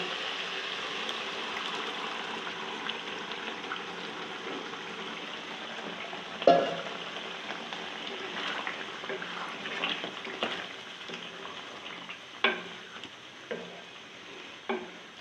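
Spinach goes into chicken frying in a pan, with soft continuous sizzling and occasional louder clattering stir strokes recurring through the stretch, no talking.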